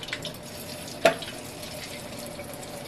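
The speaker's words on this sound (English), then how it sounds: "Get a nice big can like this one and pour it into the can like this." Bacon fat poured from a skillet into a big can in a home kitchen, a faint liquid trickle with one sharp clink or splash midway, close and otherwise quiet.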